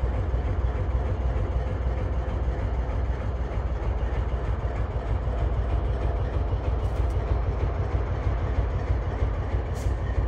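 A CN locomotive rolls through a railyard, with a steady low rumble and continuous rail clatter close by.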